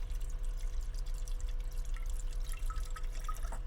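Water poured into a cooking pot in a small campervan kitchen, about half a cup, a faint, steady trickle with scattered drips and splashes throughout, heard close with no talking.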